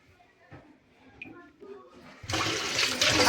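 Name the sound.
washing rice in water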